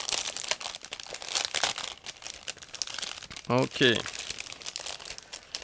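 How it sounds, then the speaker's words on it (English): A plastic bag holding model kit parts for an ICM 1/72 URAL truck crinkles and rustles in repeated bursts as pieces are pulled out, close by, with someone speaking briefly between the crackles. "we have all the parts packed into the same plastic bag, and I'm going to take them out right now"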